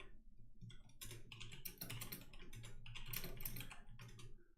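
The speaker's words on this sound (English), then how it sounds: "I'm just typing out the grid real quick." Rapid, continuous typing on a computer keyboard, with dense overlapping key clicks at close range and no pauses. No voices are heard.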